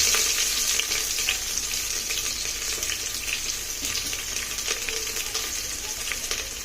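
Garlic cloves and a large onion sauté in a hot pan with a steady, close, bright sizzle and occasional stirring scrapes, and no talk.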